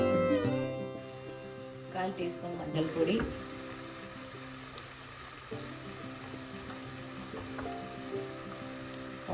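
Onions and spice powders sizzling in a pressure cooker for Kerala mutton curry, a steady hiss running under a faint sustained musical hum, with a few clinks early on.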